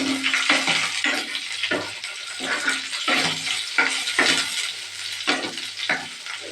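Chopped onions and green chillies frying in a pan, a loud close sizzle broken by repeated scraping stirs in an uneven rhythm, with no voices.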